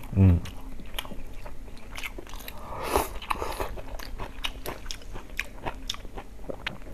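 Close, wet chewing and crunching as large slices of fatty pork belly dipped in soy sauce are eaten in a rural setting, with a loud bite at the start and steady mastication throughout.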